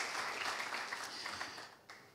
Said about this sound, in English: So I just want to give him a big round of applause for them.